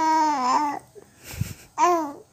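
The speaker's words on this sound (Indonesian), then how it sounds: "lagi mau minta susu, merengek dulu" A four-month-old baby whines and fusses for milk in two short, wavering vocal bursts separated by a brief pause with soft rustling.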